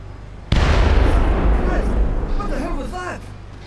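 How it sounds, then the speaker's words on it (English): Explosion in the Splinter Cell video game: a sudden loud, close boom followed by a long rumbling decay, with a voice talking over the tail. "That was an explosion, my friend."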